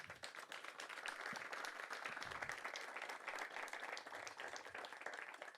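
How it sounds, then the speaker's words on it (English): Audience applause at a groundbreaking ceremony for the Hamilton County Regional Safety Complex: a continuous, crowded patter of many hands, fairly faint and distant, holding evenly throughout. "And I think that deserves a big round of applause."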